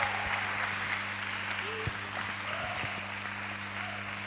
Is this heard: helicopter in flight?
no